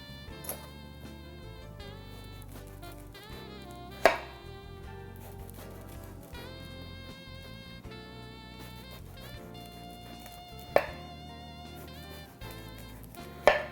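A knife slices through eggplant in a kitchen, three sharp isolated cuts spaced several seconds apart, under steady background music with no voices.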